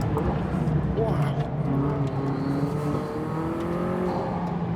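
McLaren W1 supercar accelerating hard on a race track, its engine note climbing and shifting under load, heard from inside the cabin with steady wind and road roar.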